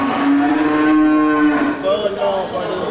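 A Brahman crossbreed cow at a busy livestock market gives a loud, close, drawn-out moo that wavers and fades, followed by a shorter second call.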